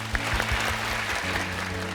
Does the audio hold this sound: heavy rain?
no